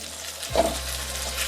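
Rice and diced carrots being stirred in a hot frying pan: a sudden burst of sizzling as the spoon moves them, then a steady loud frying hiss.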